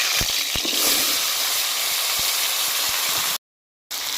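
Loud, steady sizzling of cut potatoes dropped into hot oil in a wok, with a few soft clicks, then a brief gap before the hiss resumes.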